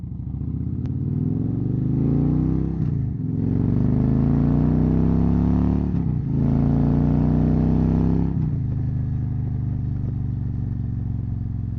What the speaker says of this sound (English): I know the bike is loud.